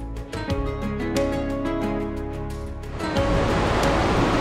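The Tumpak Sewu waterfall roars in a broad, steady rush of water at its base; music plays over the first part before the loud water noise takes over.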